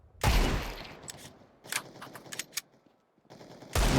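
Bursts of rapid gunfire in a video game, shooting at the player: a loud opening volley, scattered sharper shots through the middle, then another heavy burst at the end, with no talk.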